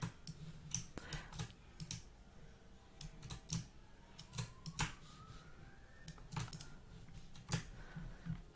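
Computer keyboard keys pressed while holding Alt and Shift during planner design work in Canva: scattered sharp clicks in irregular bursts, close and fairly quiet over a faint steady hum.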